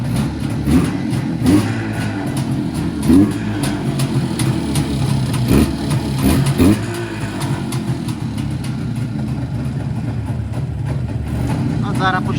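An IZh motorcycle engine idles low in a chilly garage, a steady mid-pitched putter running throughout with a few brief blips of revving, close by, with people talking over it.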